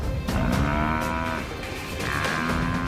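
A buffalo under attack by lions bellows loudly and close in two long, strained calls with a short break between them, over rough outdoor background noise.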